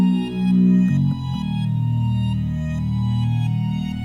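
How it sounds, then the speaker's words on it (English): A synth bass from the GMS bass 4 preset in FL Studio plays sustained low notes with buzzy harmonics, shifting pitch once early and then holding steady, loud and alone with no vocals. "This bass is by GMS preset, bass 4."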